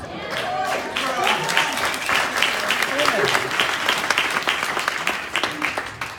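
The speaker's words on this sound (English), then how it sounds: "Give her a round of applause." A crowd applauds steadily, dense clapping sustained throughout, with a voice talking over it at times.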